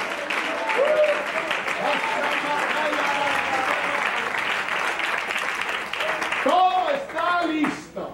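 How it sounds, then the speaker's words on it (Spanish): A church congregation claps for another round of applause during a bishop's sermon, a steady, fairly loud rush of hands with voices calling out and speaking over it throughout. "Otro aplauso."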